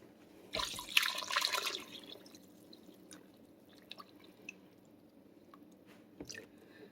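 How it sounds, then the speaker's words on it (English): Water poured into a pot, a short splashing rush that fades into faint drips and quiet trickling, with a few small clinks later on. "we're going to add a little bit more water"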